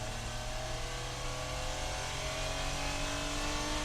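1990 Honda Acty 4x4 kei truck accelerating at full throttle in second gear, its small engine note rising steadily in pitch as revs climb, continuous and heard from inside the cab without talk.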